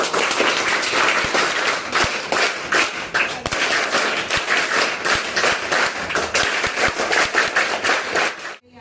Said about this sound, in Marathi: 3 स्टेप मध्ये टाळ्या.